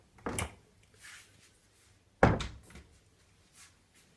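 Drawers of a Miele KD28032 freezer sliding open, two separate solid thunks about two seconds apart with softer rattles after each, close and moderately loud with no talking.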